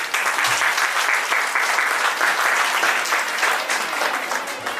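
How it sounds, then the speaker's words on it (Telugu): Sustained applause from a seminar audience at a two-day national Telugu seminar, dense and steady clapping throughout at fairly close range with no talk over it. "సరే, బాగుంది, చప్పట్లు పెట్టారు."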